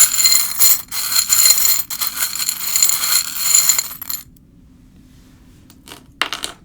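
Small metal charms rattle, clink and spill in a busy jingling cluster for about four seconds, then fall quiet, with a couple of brief final clinks near the end.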